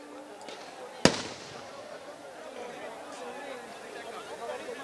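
A single sharp, loud blast from a tear gas shell at the Shambhu border protest cracks out early, then fades into a continuous murmur of crowd chatter and distant voices.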